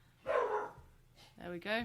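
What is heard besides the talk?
dogs barking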